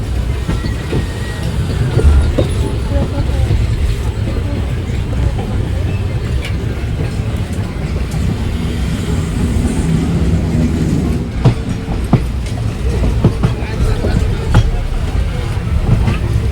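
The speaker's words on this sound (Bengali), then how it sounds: "আমাদেরটা প্ল্যাটফর্মে ঢুকছে আর এটা বেরিয়ে যাচ্ছে।" Local train on the Ranaghat–Sealdah route rolling into the platform at Naihati Junction, a loud sustained rumble with rhythmic clickety-clack of wheels over rail joints and occasional sharp clanks.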